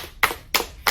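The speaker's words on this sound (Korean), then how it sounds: "박수 외치는 거예요, 우리." Three separate sharp hand claps ring out close and crisp at even intervals, each a short bright smack followed by brief quiet.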